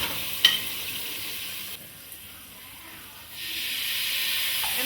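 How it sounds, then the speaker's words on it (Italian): Garlic browning in oil in a frying pan gives a steady close hiss and sizzle, with a sharp clink early on and a quieter stretch in the middle. "facciamo imbiondire bene, attenzione che l'aglio non si bruci."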